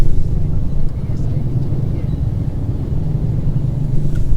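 Steady low engine rumble of slow-moving morning city traffic in Hanoi, Vietnam, heard from inside a city bus, continuous and fairly loud, with faint voices underneath.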